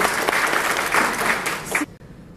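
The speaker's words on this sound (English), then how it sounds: "Give her a round of applause." Audience applause at a women's prosperity expo, a dense burst of clapping that stops abruptly near the end.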